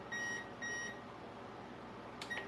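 A kitchen oven timer beeps in two steady electronic bursts followed by a brief third chirp, moderately loud against a low background hum, with no voices.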